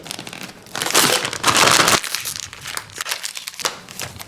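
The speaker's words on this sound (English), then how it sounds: "Now I gotta put it into a piping bag." A plastic piping bag being filled with hot gnocchi dough, heard as loud, close crinkling and crumpling of plastic in bursts, with a softer rustle near the end.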